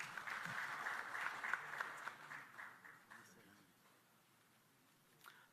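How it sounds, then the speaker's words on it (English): Quiet audience applause at an ITU regional development forum for Africa. The clapping is soft and distant at first, then thins and fades out after a few seconds. "Can we give him a round of applause?"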